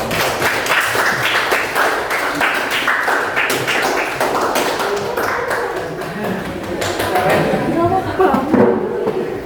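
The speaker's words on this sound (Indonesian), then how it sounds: "Tepuk tangan dulu." Schoolchildren in a classroom applaud a group presentation on coding and artificial intelligence: sustained, busy clapping with desk taps and thumps and chattering voices mixed throughout.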